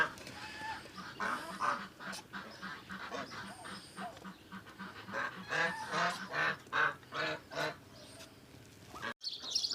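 Geese honk repeatedly in a noisy, overlapping chorus, with a few duck-like quacks mixed in, close by and fairly loud.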